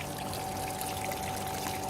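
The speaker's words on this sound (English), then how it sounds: "we're running the water through a filter into here and out through the tap" Water running through a pool filter and out of a tap trickles and pours steadily at low volume, with a faint hum beneath it and no speech.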